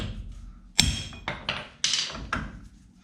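Hammer striking a rear suspension part on a 1981 Volkswagen Vanagon, five sharp metallic whacks spaced unevenly about half a second apart, close and loud with brief ringing decays and no talking.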